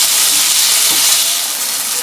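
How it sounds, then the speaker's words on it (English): Tomatoes and onions frying in a pan for instant noodles give a steady, loud, close sizzle with a continuous bright hiss and no pauses throughout. "the tomatoes and the onions are fried for a bit"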